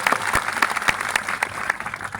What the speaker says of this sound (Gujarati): એમના માટે પણ જોરદાર તાળીઓ પાડી લો।